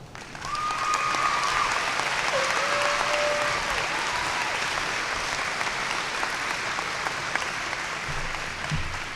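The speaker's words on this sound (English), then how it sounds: "and we applaud you as well." Sustained applause from the crowd at a high school graduation ceremony, broad and even clapping that holds for about nine seconds, with a few faint tonal squeaks early on.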